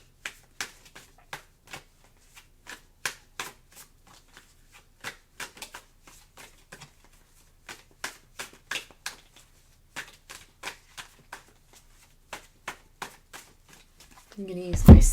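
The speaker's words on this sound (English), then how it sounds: "Give it a quick shuffle." A deck of tarot cards being shuffled by hand: a long run of crisp, close riffling flicks in quick bursts with short pauses, ending in a louder thump.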